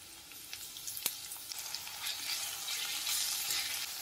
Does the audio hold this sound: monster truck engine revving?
no